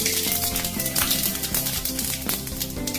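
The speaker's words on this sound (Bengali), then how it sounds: "তেল গরম হয়ে গেছে, ফোড়নে আমি 5 ফোড়ন দিয়ে দিলাম" Panch phoron seeds hit hot mustard oil with a dense, crackling sizzle and quick popping ticks, loud and close throughout, over a steady tonal hum in the background.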